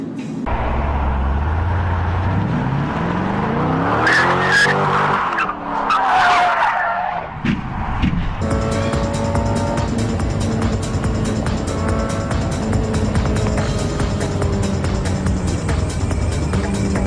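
Tyres squeal loudly as a car skids in sweeping, wavering screeches before a louder, rougher stretch of engine and road noise carries on, near and continuous.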